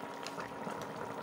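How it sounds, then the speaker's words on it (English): Water pouring into a pot of seasoned chicken for Filipino tinola chicken soup in a home kitchen, a steady close liquid rush with bubbling texture running throughout. "add some water"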